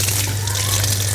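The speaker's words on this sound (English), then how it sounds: "Then I am ready to rinse my hand." Running tap water pours steadily while soapy hands are rinsed under it, a continuous close hiss with a low hum beneath, with no pauses.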